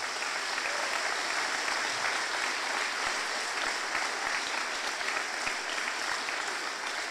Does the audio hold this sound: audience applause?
yes